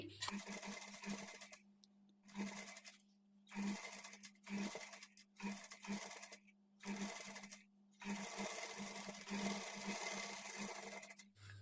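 Domestic sewing machine stitching pleated sleeves onto a garment body, running in repeated bursts of fast mechanical whirring separated by short pauses, close and clear.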